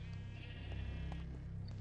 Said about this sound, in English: And the sheep are right there.